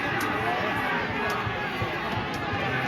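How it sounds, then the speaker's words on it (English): Loud football crowd noise at a Newport County home match, a dense, steady roar of voices and chatter filling the whole stretch, with no single voice standing out. "crowds are going mad, isn't it?"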